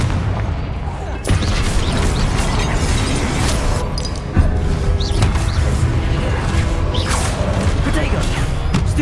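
Confringo blasting spell explosions in the game Hogwarts Legacy, dense booming blasts and crashes one after another, loud and continuous with a sharp jolt midway, under a spell-shouting voice.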